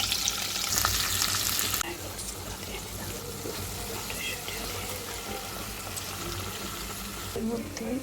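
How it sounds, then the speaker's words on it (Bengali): Nuts frying in oil with green chillies and garlic, a loud crackling sizzle that drops in intensity as ingredients go in, with stirring scrapes and bubbling continuing underneath. "বাদামগুলোকে একটু ভেজে নিচ্ছি, লঙ্কা, কাঁচা লঙ্কা আর রসুন দিলাম, একটুখানি নেড়ে নেবো।"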